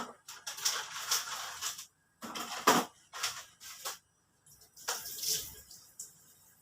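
Water pours in intermittent bursts over rice noodles (bihon) set to soak, splashing and trickling in short uneven spurts separated by quiet gaps.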